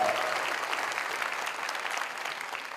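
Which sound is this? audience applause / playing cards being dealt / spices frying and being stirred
audience applause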